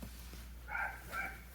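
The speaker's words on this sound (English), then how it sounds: "The dogs outside are barking." Dogs outside give two muffled, distant barks, faint over a steady indoor background hum.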